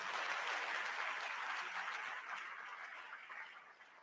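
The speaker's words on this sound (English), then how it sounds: "I think at this rate, I also deserve an applause." An audience at a physician assistants' induction ceremony applauds in a soft, distant, even wash of clapping that gradually fades over a few seconds.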